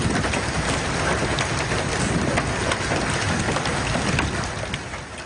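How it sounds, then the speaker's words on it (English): Hail pours down during a storm, a dense, loud, continuous clatter of ice pellets striking surfaces that eases slightly toward the end. "we had a fair amount of hail coming down earlier this evening"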